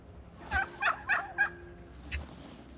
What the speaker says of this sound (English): The turkeys are all puffed up.